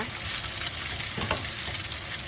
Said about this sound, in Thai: จากนั้นเราก็จะผัดให้ หน่อไม้กับเส้นเนี่ยค่ะ ให้เข้าเครื่องนะคะ ให้สุกนะคะ